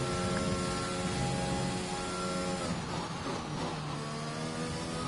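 A Formula 1 car engine in the F1 2021 racing game at the French Grand Prix at Le Castellet wails loudly and steadily, its pitch shifting through gear changes and revving without pause.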